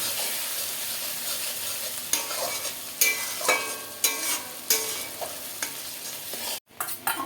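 A spoon stirs vegetables coated in red chilli powder around a pan, giving repeated scraping strokes over a steady sizzle of frying, close and fairly loud, with no talking.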